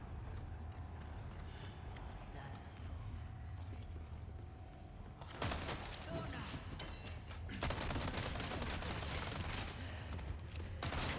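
Gunshots in Resident Evil 4 Remake, quiet background game ambience broken by two loud, dense bursts of shooting that flare up in the second half.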